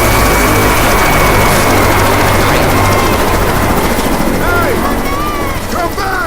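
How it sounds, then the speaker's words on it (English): A helicopter in the zombie video game Left 4 Dead 2 flies overhead, a loud, steady rotor and engine roar that fills the whole stretch, with faint game effects chirping near the end. "That chopper looks like he's heading to the evac center at the mall."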